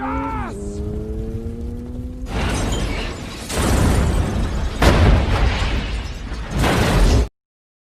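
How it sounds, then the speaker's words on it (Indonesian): A rising tonal whine gives way to several loud, noisy blasts and crashes in quick succession as a car explodes in the film The Fast and the Furious, then abrupt silence. "Dan geng motor tersebut menghancurkan mobil Brian dan menembakinya hingga meledak"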